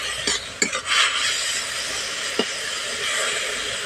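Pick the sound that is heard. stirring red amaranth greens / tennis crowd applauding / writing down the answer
stirring red amaranth greens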